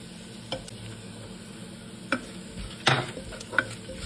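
Spices roast with chopped onion and chilli in a pan for dal, a low steady sizzle broken by several scraping, clinking spoon strokes against the metal.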